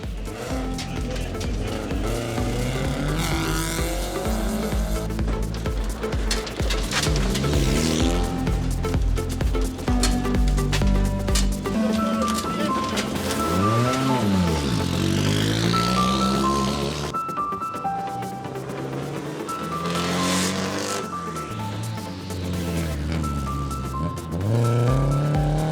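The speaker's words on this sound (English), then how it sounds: "Mashini ni aina ya Toyota Corolla." A Toyota Corolla rally car drives a dusty rally stage, its engine note rising and falling in sweeping revs, loud and close throughout.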